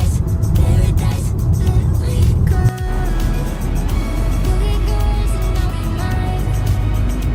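A car drives away from Honolulu airport toward a hotel, its engine a steady, loud road rumble with broadband noise running throughout, briefly dipping near the three-second mark before settling back.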